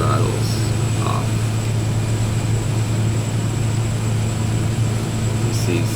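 DHC-3T Turbo Otter floatplane in flight with its turboprop engine throttled back, a loud, continuous low drone and steady hum filling the cabin without letup.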